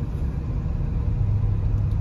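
A 1975 Oldsmobile Delta 88 Royale coupe's 455 V8 engine rumbles steadily while driving, heard from inside the cabin, a low, smooth drone with no talking.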